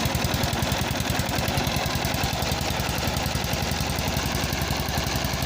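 A 1988 Simplicity 7116H lawn tractor engine idles while warming up, a steady, close, rapid chugging pulse with a constant mechanical rumble and no voices.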